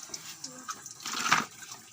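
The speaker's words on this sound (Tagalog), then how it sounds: "kung kuha ka ng tubig doon sa may timba" Water from a bucket splashes and pours in a short burst, amid a few small drips and clinks, while fish is being cleaned.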